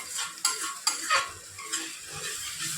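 Spices and salt stirred in a frying pan for pabda fish in oil, sharp spatula scrapes and clinks against the metal over a light sizzle, a few distinct strokes close by.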